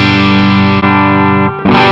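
Electric guitar played through an ENGL Cabloader IR pedal with clipping switched off, a loud sustained chord ringing with a short dip before a fresh strike near the end.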